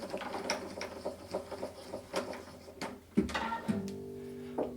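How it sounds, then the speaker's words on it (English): A string winder turns to tighten a classical guitar string, giving close rapid clicking and ratcheting in uneven bursts, then the string's rising tone rings out faintly as it tightens. "we'll simply wind our string with the help of the string winder."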